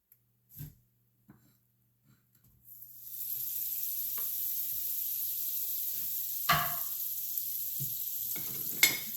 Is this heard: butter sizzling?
yes